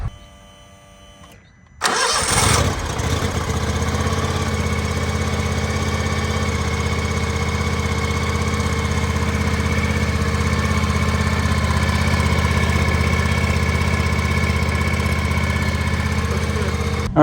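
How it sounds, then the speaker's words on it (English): A John Deere X590 lawn tractor engine cranks and catches after a quiet moment, then settles into a steady, loud, continuous idle that runs uninterrupted to the end. "Now it's time to start up the lawnmower"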